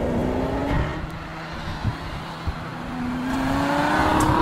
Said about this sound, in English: Floored for either wheel spin or tremendous acceleration.